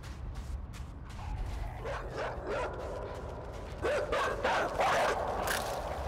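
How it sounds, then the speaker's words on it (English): A dog in a stealth video game barks and yips in a quick run of several short calls, moderately loud over a steady low background hum, with no talking. "I've alerted the dog."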